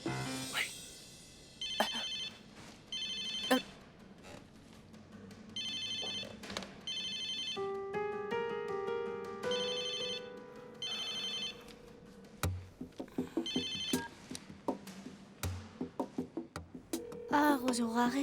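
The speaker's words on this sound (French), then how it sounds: "Rosora, réponds, s'il te plaît." A telephone rings with repeated electronic ringtone bursts, loud and close, set in a scene from a French comedy series, with background sounds and brief knocks between rings.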